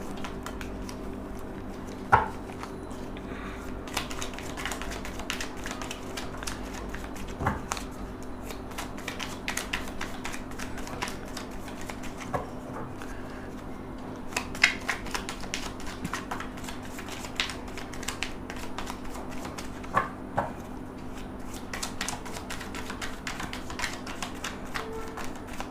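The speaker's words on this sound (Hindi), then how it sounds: "आपके सामने मैंने कार्ड शफल किए" Tarot cards being shuffled by hand, a long, quiet stretch of soft riffling and scattered taps and clicks over a low steady hum.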